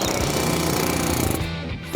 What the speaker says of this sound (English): This old coating has to be removed to get to the metal, and the air hammer will help get that done.